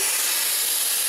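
A steady, loud hiss of compressed air escapes from a broken brake chamber hose on a truck in a garage, continuous and close throughout with no talking.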